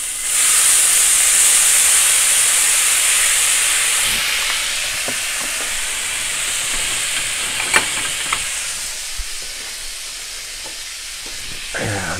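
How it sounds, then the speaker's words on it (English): Lemon juice hitting a hot pan of pork chops, a loud burst of hissing steam and sizzle that gradually settles into a quieter frying crackle with occasional clinks. "I'm using this to kind of deglaze the pan"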